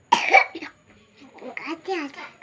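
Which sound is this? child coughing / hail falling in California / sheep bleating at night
child coughing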